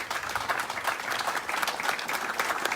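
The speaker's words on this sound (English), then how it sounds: "So a round of applause for those folks" An audience at a presentation of recycled vehicles to veterans gives a dense, even round of applause for the sponsors, the clapping continuous and moderately distant.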